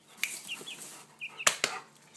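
Chickens cluck softly nearby, a few short scattered clucks with a couple of sharper sounds, fairly faint and without speech.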